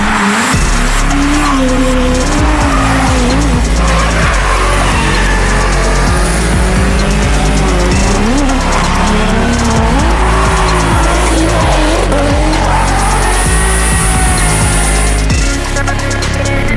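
Drift cars at Ebisu circuit in Japan howling at high revs with long tire squeals and skids, loud and close, engine pitch rising and falling as cars slide through corners.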